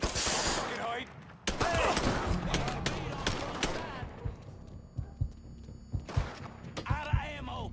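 Rapid gunfire in the crime game Mafia 3, sharp repeated shots and bursts throughout, with game characters shouting in between.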